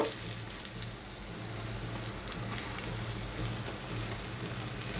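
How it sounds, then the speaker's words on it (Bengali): Chopped onion frying in hot oil in a pan with whole garam masala, bay leaf, cinnamon and cardamom, giving a steady, even sizzle throughout with no voices. "পেঁয়াজটা যাতে নরম হয়ে যায় সেই পর্যায়ে আমি পেঁয়াজটাকে ভেজে নেব"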